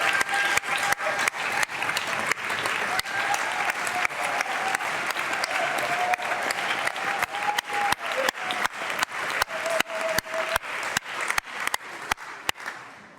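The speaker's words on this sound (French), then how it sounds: "La foule est déjà en liesse." A crowd at a baseball stadium in Québec applauds and cheers steadily after a dramatic game ending, with dense continuous clapping and rhythmic claps standing out, loud and sustained throughout.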